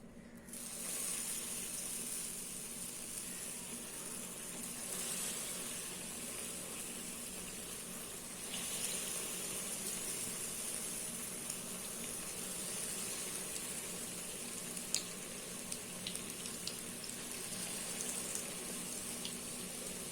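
Wheat flour bonda batter frying in hot oil in a kadai over a medium flame, giving a steady, fairly quiet bubbling sizzle that runs unbroken throughout with no voices.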